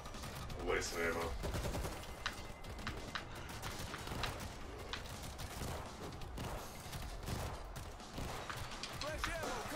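Continuous gunfire in the World War Z video game, dense rattling bursts and shots running throughout, mixed with game noise and occasional player voices.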